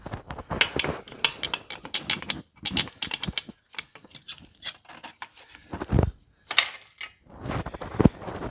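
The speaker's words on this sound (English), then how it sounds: "Now we're going to get all these bolts tightened." Ratchet wrench clicking rapidly while tightening engine bolts on a 2008 GMC Acadia during an engine and transmission install, bursts of sharp mechanical clicks with short pauses, close and clear.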